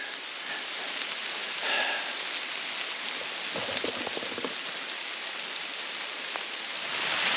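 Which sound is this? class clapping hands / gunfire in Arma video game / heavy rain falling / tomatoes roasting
heavy rain falling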